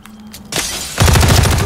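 Loud, close gunfire in the multiplayer shooter Call of Duty Modern Warfare 3: a burst of noise, then a rapid automatic volley of rattling shots that runs on without pause, with no voices over it.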